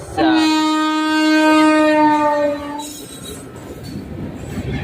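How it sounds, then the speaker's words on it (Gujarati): An electric train with overhead wires sounds a long, loud horn blast for about two seconds, then the rumble of the passing rail cars continues. "इलेक्ट्रिक वाली है भाई ઇલેક્ટ્રિક ટ્રેન હે માથે તાર હે"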